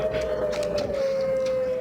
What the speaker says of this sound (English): The sound of sirens at the nation's most contaminated nuclear waste site.